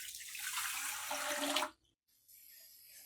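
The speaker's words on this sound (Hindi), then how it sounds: "1 कप हम ये पानी लेंगे।" Water poured from a cup into a pan for sugar syrup, a steady splashing pour lasting under two seconds before stopping abruptly, followed by a faint high hum.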